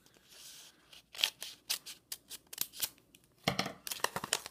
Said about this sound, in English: So I'm going to cut this.